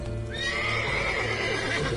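Horse in The Witcher 3 gives a loud, close neigh with a rising then falling whinny, over a steady backdrop of clip-clopping hooves and ambient game sound.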